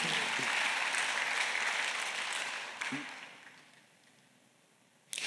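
Congregation clapping during a Sunday worship service in a Korean church, a broad wash of applause that starts full, then thins and fades over several seconds before a sharp sound at the end.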